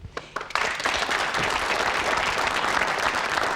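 A crowd bursts into sustained applause after a few brief opening claps, steady dense clapping filling the rest of the clip.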